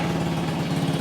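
A motorcycle engine running steadily just after starting, a continuous mid-pitched rumble at close range with no speech.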